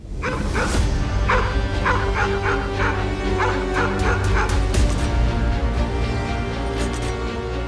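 Several dogs bark, yip and whimper continuously and close by, a dense overlapping chorus against a steady low rumble.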